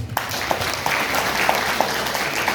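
An audience in a hall at a Nahdlatul Ulama centenary gathering breaks into sustained applause, a dense even clatter of many hands with a few sharper claps standing out.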